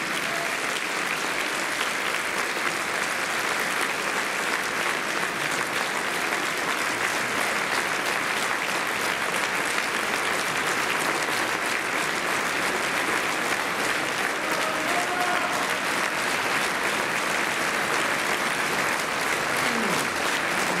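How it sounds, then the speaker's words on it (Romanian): Sustained applause from a holiday-show audience for a dance teacher and her young pupils, a thick, even roar of many hands clapping that holds at a steady level for about twenty seconds. "Aplauze pentru doamna profesoară Simona Baicu și minunatii ei copii"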